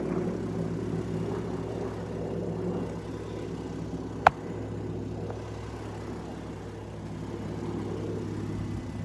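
A truck engine idles in a driveway with a steady low rumble that continues without a break, heard at moderate distance, with one brief sharp click partway through.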